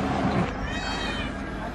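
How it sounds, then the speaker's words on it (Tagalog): Several cats meowing close by near a parking area, with a drawn-out, wavering meow rising over people talking. "Ang daming pusa dito ah."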